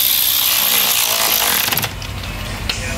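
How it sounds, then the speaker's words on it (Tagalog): An electric impact wrench whirs and rattles loudly up close while fastening the valve cover on a Toyota RAV4 2AZ engine, the buzzing run cutting off partway through to a lower mechanical hum. "Electric impact lang gamitin, hindi na kailangan magmano-mano."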